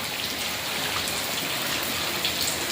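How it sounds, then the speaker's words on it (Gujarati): A hard evening downpour in a village during a thunderstorm keeps up a thick, even roar of falling drops on surfaces nearby, with scattered louder splashes. "વરસાદ પડે છે એ એકદમ જોરદાર"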